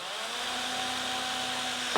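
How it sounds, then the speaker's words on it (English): A power drill whirs steadily as it bores a pilot hole into an RV door, holding one even pitch for about two seconds before cutting off abruptly at the end. "And then I'm going to drill a pilot hole on this side."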